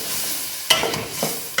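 Mutton cooking in a pan over a lowered flame, a soft steady sizzle broken by a sharp clatter and a few stirring scrapes, close by, with no talk.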